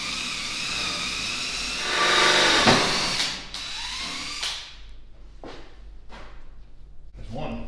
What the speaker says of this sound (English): So gonna drill some holes for those to come on through.